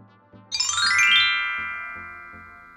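A bright bell chime rings out once, a shimmering notification ding that rises then slowly rings down, standing alone over faint low background noise.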